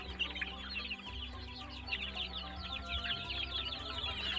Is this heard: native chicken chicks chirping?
yes